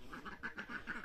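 Several ducks quack in a steady run of calls while being herded to bed in the evening, the quacks fairly close and repeated in quick succession with no talk over them.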